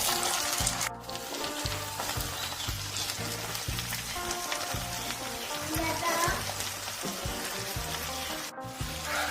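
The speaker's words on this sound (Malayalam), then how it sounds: "ഇനി ആ സെയിം ഓയിലിലോട്ട് തന്നെ നമുക്ക് ഉള്ളി വാട്ടിയെടുക്കണം" Onions sizzle steadily in hot oil close up, a continuous crackling fry with occasional stirring sounds.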